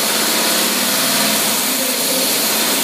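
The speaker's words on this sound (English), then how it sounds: "Oh, that thing runs so smooth." A 1979 Buick 231 even-fire V6 fitted with a Rochester dual jet carburetor idles steadily and smoothly up close, a continuous even engine drone with no voices over it.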